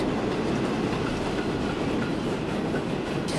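An express Pullman train runs in Transport Fever 2 with a continuous rail rumble and a steady clickety-clack of wheels over track, and no voices.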